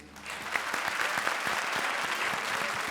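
Studio audience on a Hindi comedy show breaking into loud sustained applause, dense clapping that rises quickly and holds steady, filling the room.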